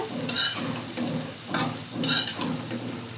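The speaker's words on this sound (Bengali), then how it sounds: "এখন হচ্ছে তরকারিটা একটু কষে আসবে।" A koi fish curry with eggplant and potato sizzles in a pan while a spoon stirs it, with scraping strokes every second or so over a steady, soft frying hiss.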